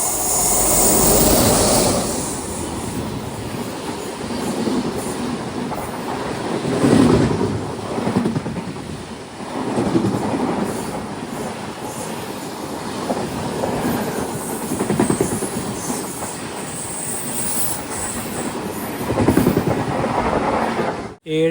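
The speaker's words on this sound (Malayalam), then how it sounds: "ദിബ്രുഗഡിലേക്ക് പോകുന്ന വിവേക് എക്സ്പ്രസ് ഇപ്പോൾ വരും." The Dibrugarh-bound Vivek Express passes near a railway crossing, its wheels beating a rhythmic clickety-clack with swelling rumbles as carriages roll by, fairly close, with occasional faint voices underneath.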